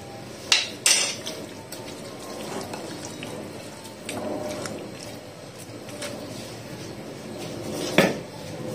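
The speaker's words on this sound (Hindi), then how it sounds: "अब जितना चिकन है सब इसमें ऐड कर दूंगी। बिस्मिल्लाह, इसको अच्छे से मिक्स कर लेंगे।" Chicken pieces being mixed into marinade in a bowl, with a few sharp clinks of utensil against the bowl near the start and end and soft wet shuffling between, close and moderately quiet, no talking.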